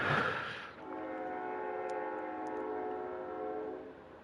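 A train horn sounds a long, steady, loud blast over a rumbling train in the game Kerbal Space Program, with no talking.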